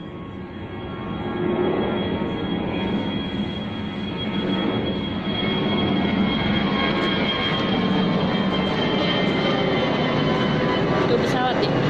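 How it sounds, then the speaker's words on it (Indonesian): An airplane flies overhead with a continuous droning engine roar that swells a little louder and holds steady throughout, heard outdoors in the late afternoon. "Tuh pesawat deh."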